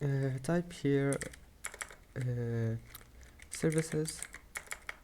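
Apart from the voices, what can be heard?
typing on a computer keyboard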